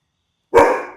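A dog gives a sudden loud bark-growl close by in a thief simulator game, starting half a second in after silence and trailing off, with no talk.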